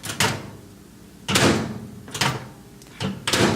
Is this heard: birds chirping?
no